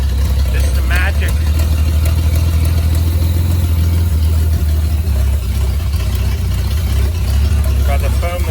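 A 1941 Plymouth barn-find engine runs at a steady, loud idle with a deep low rumble throughout, evening out over several seconds while people speak faintly in the background.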